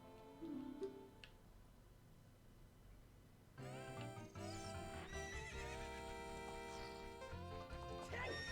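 A horse in Zelda: Ocarina of Time gives a short whinny with a few light hoof clops, then game music with bright chiming tones comes in and carries on, all fairly quiet.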